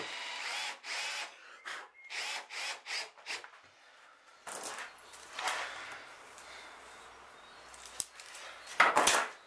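A power drill drives screws into pre-drilled plywood during sailboat construction, with several short whirring bursts and grinding pauses between them, then a louder rattle near the end, close by.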